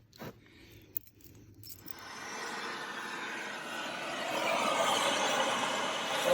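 Car keys for a 1969 Ford Falcon XW sedan jangle up close, starting with a few light clinks and then swelling into a steady bright metallic shimmer, with no talking.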